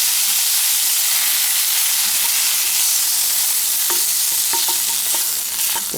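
Fried onions scraped and stirred out of a saucepan into a pot of cabbage, tomato paste and cumin, with a steady close sizzle and hiss broken by a few light scraping clicks near the end, no talking.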